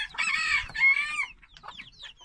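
Backyard chickens and a rooster cluck and crow loudly up close during feeding, a long strained call followed by a scatter of softer clucks.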